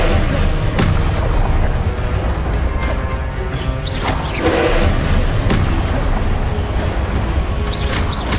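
Loud magical impacts from Hogwarts Legacy spell combat, including Expelliarmus, land as a series of crashing booms and whacks layered over a busy, steady game soundtrack.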